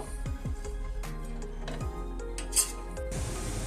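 A ladle stirs toor dal in a metal pot with scattered clinks and scrapes, then a lid is set on top, close and fairly quiet with small metallic knocks.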